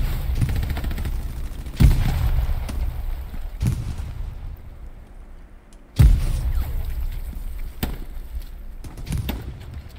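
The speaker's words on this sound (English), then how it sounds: "Frag's going out on the road." Heavy blasts from frag grenades in the WWII shooter Hell Let Loose boom out twice, with scattered rifle and machine-gun fire cracking between them amid a rumbling battlefield.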